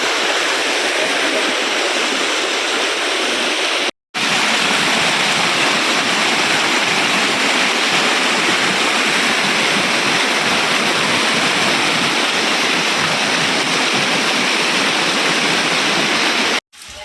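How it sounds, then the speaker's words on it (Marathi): Loud, continuous rush of monsoon water cascading down stone steps like a waterfall at Korigad fort, a steady broadband roar close by with no pauses apart from two brief cuts. "असं पायऱ्यांवरून हे वाहत असणारं धबधब्यासारखं पाणी"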